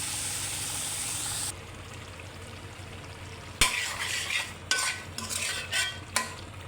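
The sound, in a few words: beef liver and lungs being fried and stirred in a pan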